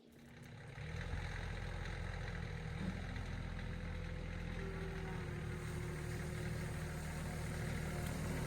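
A tractor engine, parked on a slope, starts up and settles into a steady low idle, rumbling continuously nearby with no voices.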